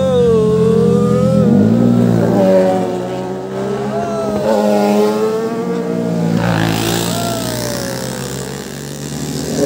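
A Kawasaki 1000 superbike roars past on a road, its engine note rising and falling as it speeds by close and loud, with other traffic engine noise around it.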